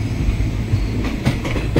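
A train on the Hyderabad to Goa route rumbling along the tracks, loud and close from inside, with a steady low roar and faint rhythmic clacks.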